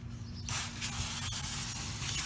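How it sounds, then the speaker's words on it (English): Aerosol chain cleaner sprays onto the chain of a Suzuki GSX-R 750 motorcycle, a close, steady hiss that starts after a brief pause and runs continuously. "I'm just going to go through and hit the chain cleaner one more time"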